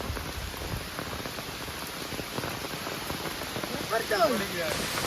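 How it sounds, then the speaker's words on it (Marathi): Heavy rain falls over a flooded river during net fishing, a steady even hiss throughout, with a brief voice near the end. "जोरात पाऊस सुरू झालाय"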